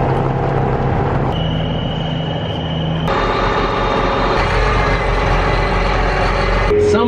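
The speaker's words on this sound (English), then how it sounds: "Truck's here, Didge." A truck sounds steadily nearby, its loud engine drone and low rumble running the whole time, with a sharp shift in tone partway through and vehicle noise filling the background.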